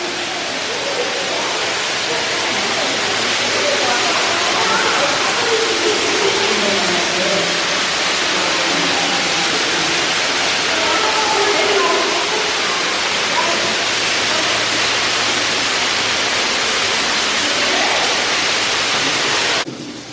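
Steady, loud rush of a waterfall inside Marvel Cave fills the space continuously, a broad roaring wash with faint voices murmuring underneath at times.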